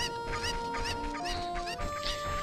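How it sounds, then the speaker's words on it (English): Chickens cluck repeatedly in Zelda: Ocarina of Time, a steady run of short, bright squawking calls over a sustained musical background. "Chicken!"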